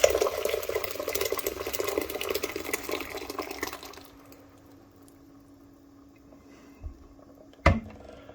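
Thick blended chili sauce pours into a pot for Colorado chili after deglazing, making a wet, splashy sloshing for several seconds that fades to quiet, followed by a couple of soft knocks.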